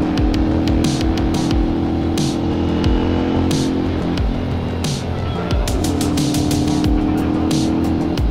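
A motor vehicle engine roars steadily and loud throughout, with pitch shifts as it passes on a road during a Mindanao motorcycle rally, accompanied by intermittent bursts of wind or road noise.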